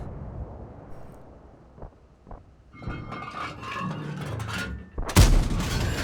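A tank gun fires in World of Tanks from a WZ-120-1G FT tank destroyer: a single loud, sharp blast near the end, preceded by a few muffled distant thuds over rumbling battle ambience.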